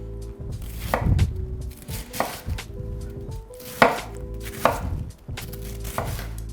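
A knife chops cabbage on a board for coleslaw, a series of firm, close thumps at an uneven pace over a low hum of kitchen background.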